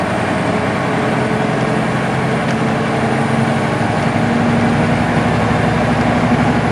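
A heavy truck with an Eaton Fuller Super 10 transmission drones steadily from inside the cab while double clutching into ninth gear, the engine note shifting only slightly partway through, with no talking.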